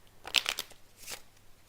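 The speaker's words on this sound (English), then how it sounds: "I'm going to shuffle the deck and then I'll keep on dealing." A deck of playing cards is shuffled close by in a single quick riffle burst, then a softer second flutter, with no voices.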